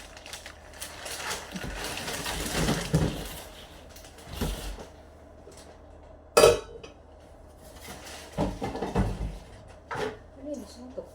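Large cooking pots clank and knock as they are handled for an outdoor goat roast, with scattered metallic clatters and one sharp bang midway, while people talk throughout.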